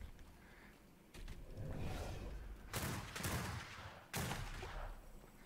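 Gunshots in the survival game Atlas, a few loud broadband blasts at irregular intervals over a steady low background rumble, with no talk.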